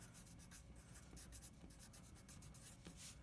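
A pen scratches across paper in quick, quiet strokes as a word is handwritten, the rubbing and tapping faint and close.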